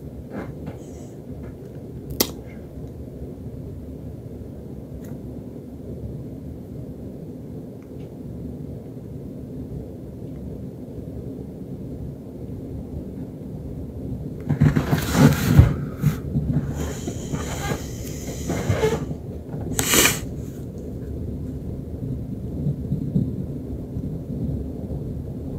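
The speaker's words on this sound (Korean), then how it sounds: "비가 아주 많이 오고 있어요. 천둥번개도 치고 있어가지고" A late-night thunderstorm brings heavy, steady rain hissing throughout, broken by one sharp crack early on and a loud rolling thunder burst about midway, followed by further rumbles that fade back into the downpour.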